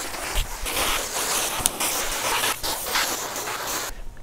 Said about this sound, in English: And you could get some splashes like this.